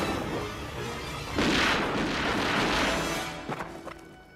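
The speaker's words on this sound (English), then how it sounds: "After some quick thinking, the thieves use their gun." Gunfire from the thieves' gun in a Batman film: a sustained, loud burst of blasts and crashing noise lasting a couple of seconds, then fading into a few sharper cracks.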